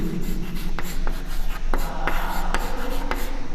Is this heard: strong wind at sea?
no